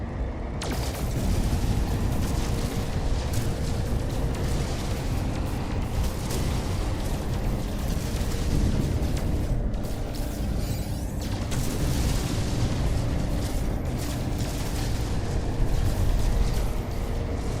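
Photon cannon fire and explosions from ships in a No Man's Sky space battle: steady, loud, dense blasting and booming rumble that runs continuously with broadband bursts throughout.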